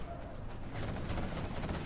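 Rebel ambush gunfire in Command & Conquer: Generals Zero Hour, striking a nuke cannon and an Overlord tank: dense, continuous crackling bursts of small-arms fire with heavy low rumble, sustained and fairly loud throughout.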